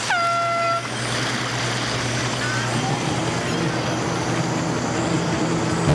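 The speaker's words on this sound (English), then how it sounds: "And at the sound of the horn," A loud air horn blast signals the start of an offshore jet ski race on a lake, sounding for under a second, then the rumble of engines starting and running steadily.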